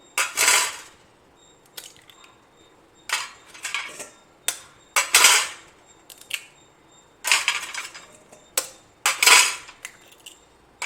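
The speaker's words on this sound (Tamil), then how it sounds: "இப்போ முட்டையை உடச்சி ஊற்றிக்கலாம்." Sharp clanks and taps of eggs being cracked against a bowl and poured in for an omelette. The bursts come in an irregular series, close and fairly loud, separated by short quiet gaps.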